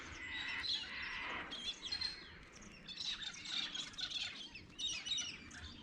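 Birds chirp and squawk continuously at Bedford Weir at sunrise, with dense overlapping high calls and tweets from several birds at moderate distance, outdoors with no talking.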